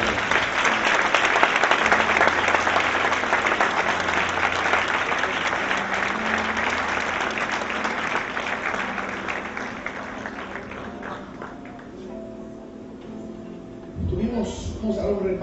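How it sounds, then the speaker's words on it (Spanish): Loud sustained applause from a church congregation fills the room, gradually thinning out toward the end before a voice resumes speaking. "Damos un aplauso al Espíritu Santo."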